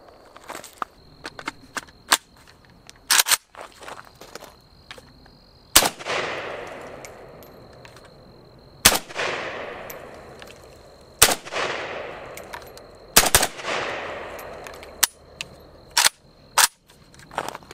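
Gunfire from a PSA AK rifle, sharp individual shots fired at irregular intervals with some quick doubles, each crack followed by a decaying outdoor echo, heard through a muffled, hearing-protected perspective.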